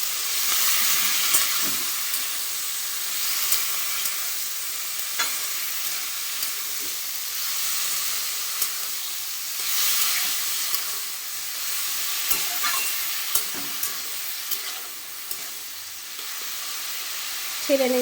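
Dal bora curry sizzling in a pan as salt and turmeric are stirred in: a continuous close hiss of frying broken by occasional scrapes and taps of the spoon.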